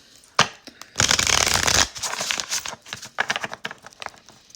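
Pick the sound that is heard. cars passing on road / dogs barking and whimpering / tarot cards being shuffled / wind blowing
tarot cards being shuffled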